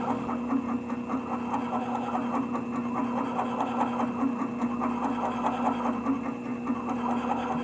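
A faceting machine spins a darkside lap to polish a helenite gemstone, giving a steady, close motor hum with a faint rhythmic flutter that runs unbroken throughout.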